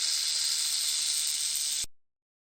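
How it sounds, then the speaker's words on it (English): A snake hisses in one long, steady, airy burst, close and even in loudness, cutting off sharply after about two seconds. "snake"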